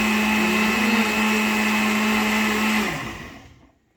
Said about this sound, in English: I am going to switch my blender off from the main.